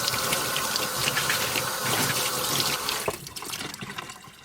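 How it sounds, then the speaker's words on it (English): Cold running water from a faucet splashes steadily over a Dyson vacuum filter for about three seconds, then the flow shifts and thins into lighter, uneven trickling and dripping. "turn on the cold water, and go about rinsing the debris off of it"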